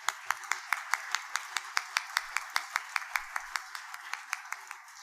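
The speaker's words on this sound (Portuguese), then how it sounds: "Bruno Bettini de Almeida, a quem eu solicito uma salva de palmas." A small audience claps in time at an inauguration ceremony for a democratic space named after a poet in a museum, steady rhythmic claps at about four per second, moderately near, lasting five seconds with no talk.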